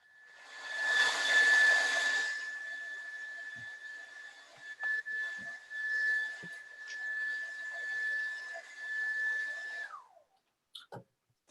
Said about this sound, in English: Here comes the hair dryer.